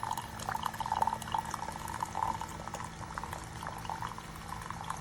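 Keurig K-Mini single-serve coffee maker brewing a K-Cup pod, giving a steady bubbling and gurgling hiss with a low pump hum, close by and uninterrupted by voices.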